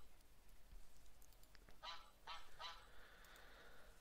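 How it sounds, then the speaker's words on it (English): Honking goose-like calls of a large boss-type bird in the game Minetest, three distinct harsh honks in a quick row, moderately close against a faint, hissy background. "That's that boss type bird that's still out and about somewhere."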